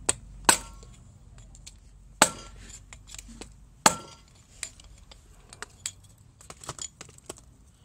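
Sharp metallic taps of a hammer on a socket and extension ring out one at a time at uneven intervals, a few loud strikes followed by lighter ticks, close by in a quiet room.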